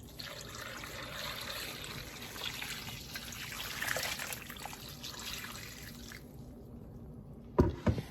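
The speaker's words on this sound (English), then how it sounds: "finish topping this off with some good water" Water trickles and pours steadily into a pot of chicken bones for broth, a soft continuous splashing close by that stops near the end, followed by a couple of brief clunks.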